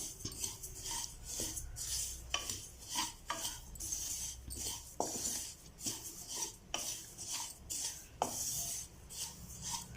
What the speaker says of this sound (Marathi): मंद गॅसवर कलरने बदलू द्यायचा आहे तिळीचा छान अशी खमंग भाजून घ्यायची